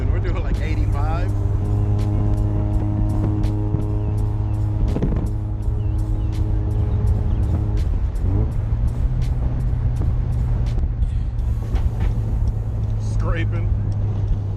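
A rotary-engine convertible cruises at about 85 mph, its engine a loud, steady droning hum with wind rush throughout, while someone talks over it at close range.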